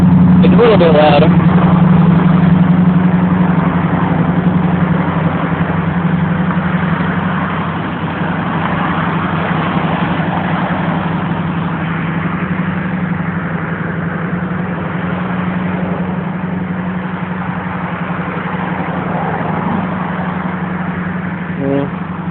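A Chevrolet Camaro IROC-Z Z28 with port injection idles after a cold start, giving a steady, loud, low engine drone that runs on evenly, with voices talking over it.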